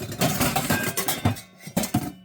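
Metal MSR camping cook set pots and a frying pan handled and knocked together, a quick run of close clanks and clinks with a few sharper knocks, alone without talk.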